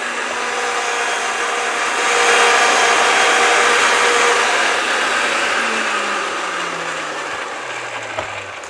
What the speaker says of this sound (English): We will now use our lever to advance our deburring tool. Apply some pressure.